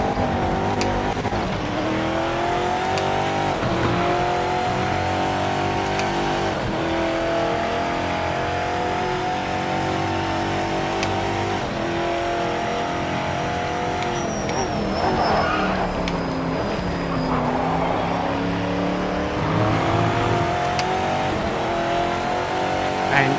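A race car in the Project Motor Racing game trail brakes into corners and accelerates out, its engine note falling and rising in steady sweeps, with a faint tyre squeal and skid partway through, loud and continuous.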